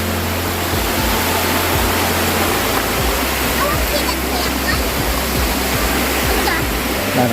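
Busay Falls waterfall pours as a loud, steady broadband roar of falling water close by, continuous for the whole stretch, with a low hum and some faint speech underneath.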